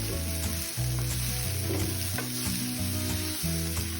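Ingredients for corn gravy frying in a pan, with a steady loud sizzle under a spoon stirring, while soft background music plays throughout.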